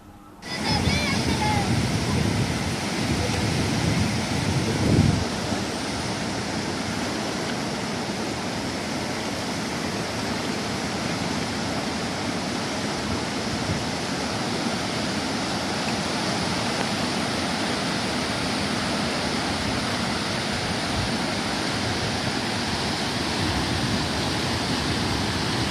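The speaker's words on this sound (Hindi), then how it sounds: "दरियाई जेलम की ये शोर मचाती और ये बल खाती लहरें जिंदगी का एहसास दिलाती हैं।" The waves of the Jhelum river near Murree roar in a dense, continuous rush of water, loud and steady, with a brief bump of sound near the start.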